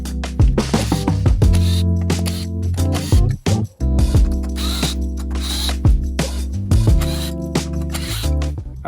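A ratcheting tool backs screws out of an Abrams tank shell, quick clicking bursts separated by short pauses and metallic handling sounds, close and with no voices.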